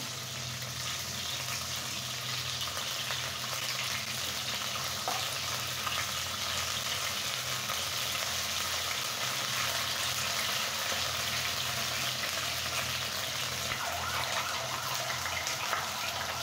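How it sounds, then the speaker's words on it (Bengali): Frozen coriander leaves fry in hot oil, a loud, dense, continuous sizzle with crackling splatter from the released water, steady throughout without speech. "ধনিয়া পাতাটা আসলে ফ্রোজেন করা ছিল, ফ্রিজে ছিল, ডিপ ফ্রিজে, এই জন্য এতটা পানি ছড়াচ্ছে"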